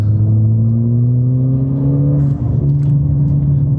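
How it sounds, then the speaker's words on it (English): A Ford Fiesta ST engine drones steadily at high revs while driving hard into a corner at about 60, its pitch rising and shifting as it pushes hard, loud and close, with no voices. "This is a demonstration of how well this car handles."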